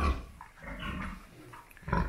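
Pigs in a pen on a sow-breeding farm grunt a few times at close range over about two seconds, with a low rumble at the start and another grunt at the end.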